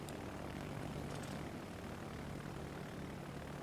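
An aircraft squadron in the naval video game World of Warships drones along with a steady, faint propeller engine hum and no change in level.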